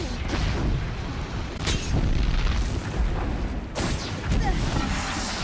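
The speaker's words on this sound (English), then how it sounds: "Oh jeez, he's gonna explode" A Charger, a machine in the video game Horizon Zero Dawn, exploding: loud, dense roaring blasts with fiery crackle, swelling into heavier bursts twice, over a continuous rumble.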